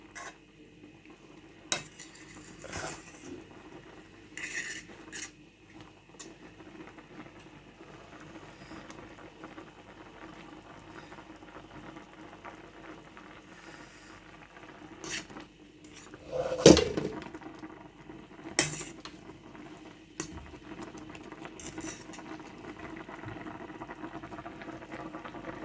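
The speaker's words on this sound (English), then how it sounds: "My coconut milk boiling down with my green beans right there." Coconut milk and green beans simmer in a pot for pumpkin rice with saltfish, a soft steady bubbling hiss broken by scattered spoon clinks and scraping as the mixture is stirred, with one sharper clatter midway.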